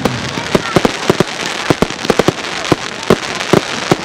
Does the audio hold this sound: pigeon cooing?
no